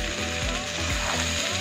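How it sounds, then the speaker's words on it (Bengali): Rice grains stirred through hot ghee in a cooking pan, a spoon scraping in steady rhythmic strokes roughly every half second, close and clear over a soft continuous sizzle, with no voices. "চালটা ভালো করে নাড়তে হবে"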